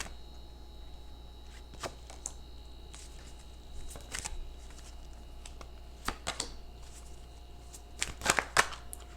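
Tarot cards are shuffled in scattered soft flicks and riffles, quiet and close, building to a denser flurry near the end, with no one speaking.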